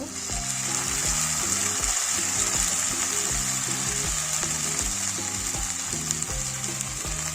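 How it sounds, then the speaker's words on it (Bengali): Onion fries with ginger-garlic paste for a raw banana curry with gram-flour fritters, a steady sizzle under rhythmic scraping and stirring strokes that repeat through the whole stretch, close and fairly loud. "পেঁয়াজটা একটু ভেজে নেব এবার আদা রসুন বাটা দেব"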